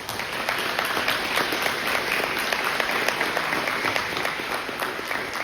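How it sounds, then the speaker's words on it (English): An audience claps for an NCAA All-American distance runner, a steady, crowded round of applause that stays even throughout, with scattered sharper claps standing out from the mass. "Let's give her a round of applause for an All-American."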